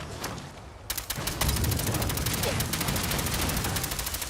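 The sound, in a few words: gunfire in the video game Fallout 4 Far Harbor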